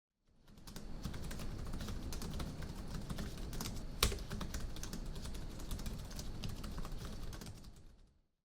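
Steady, fast typing on the built-in keyboard of an ASUS TUF Gaming F15 FX506 laptop, whose keys have 1.8mm travel, sounds as dense, even clicking that runs throughout, close and fairly quiet, with no voices.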